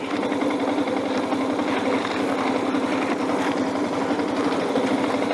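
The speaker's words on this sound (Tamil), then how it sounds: "கால் கீழே வச்ச வாக்கிலே லைட்டாக எக்ஸ்லேட்டர் கொடுக்குறேன்" Motorcycle engine idling with light throttle while the rider balances with a foot down, a steady continuous engine drone at close range throughout.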